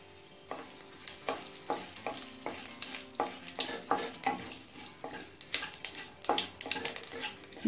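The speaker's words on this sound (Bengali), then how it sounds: "জিরে তেজপাতাটা লাল করে ভেজে নিলাম।" Whole cumin seeds and two bay leaves fry in hot white oil, giving a steady crackling sizzle broken by repeated scraping stirs of a spatula in the pan, close and fairly loud, with no one talking.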